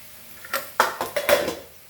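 Spoon stirring poha with turmeric powder in a pan, a handful of short scraping clinks spaced about a second apart, close and moderately loud, no voices.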